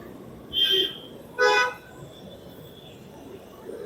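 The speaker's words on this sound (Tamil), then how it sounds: "ஐயோ டிராஃபிக் ஆயிடுச்சே." Two short car horn honks sound about a second apart over low road traffic rumble on the Avinashi Road bridge in Coimbatore, with a quiet stretch of traffic noise afterward.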